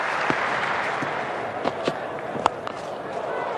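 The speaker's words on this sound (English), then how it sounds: "Crowd realising that he's got his half-century." Cricket crowd at an Australia versus Zimbabwe match applauding a batsman reaching his half-century, a steady distant ripple of clapping with a few sharper claps standing out, under faint background noise.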